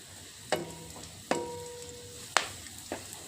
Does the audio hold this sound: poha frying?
yes